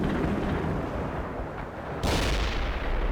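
A cluster bomb airstrike hits in the World in Conflict war game, a dense rumbling barrage of blasts that erupts into a sharper, louder burst of explosions about two seconds in.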